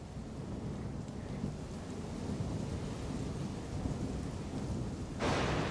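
Thunderstorm with steady heavy rain in Pillars of Eternity 2: Deadfire, a continuous dense wash of rain and rumbling thunder that swells briefly louder near the end.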